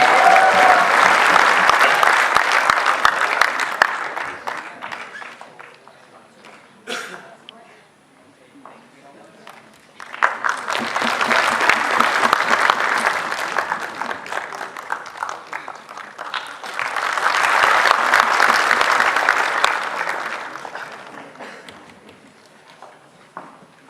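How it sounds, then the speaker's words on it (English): An audience at a youth conclave bursts into loud applause and cheering in three swelling waves, each rising, holding and fading, with quieter gaps between. "another round of applause for our friends from Imphal. Please give them a huge cheer"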